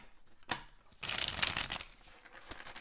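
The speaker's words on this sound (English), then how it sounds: "Last shuffle." Tarot cards being shuffled by hand, a brief riffle followed by a longer, denser burst of papery shuffling, close and fairly quiet, with no talk.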